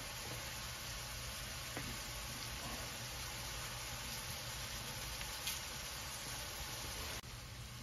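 Onions sizzle quietly in a pot for cheese soup, a soft steady hiss with a few faint stirring scrapes and clicks, no voices.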